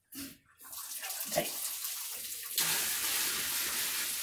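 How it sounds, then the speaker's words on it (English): A bucket of soapy rainwater, mixed with detergent, is poured into a washing machine tub, making a loud, steady rushing gush after a brief splash, with a short spoken word near the start. "I'm getting ready to go pour it into the washer"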